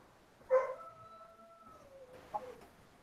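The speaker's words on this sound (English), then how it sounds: "You hear the howls of wolves in the background." Wolves howl at night, far off and faint: one long, steady wavering howl, then a second, shorter cry trailing after it.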